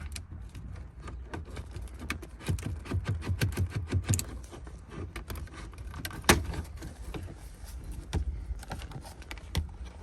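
A climate control LCD unit is worked loose from the dash of a Porsche 986 Boxster, giving a close run of plastic clicks, rattles and scrapes with scattered sharper knocks.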